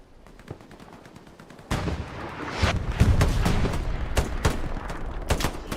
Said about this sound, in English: definitely hears this MG